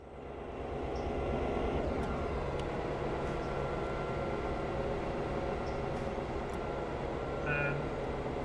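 A heavy freight train hauled by RS1325 and GP38 locomotives in the video game Railroader rumbles steadily along, a continuous low mechanical roar with faint squeals and clanks, no talking over it.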